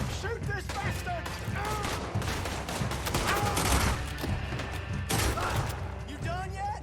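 Dense gunfire from a firefight in the video game Red Dead Redemption 2, with rapid overlapping shots and booming bursts throughout, loud under shouted voices.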